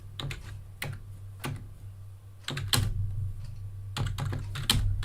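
Someone types a question on a computer keyboard, with quick clusters of close, crisp key clicks between brief pauses and a faint steady hum behind, no speech.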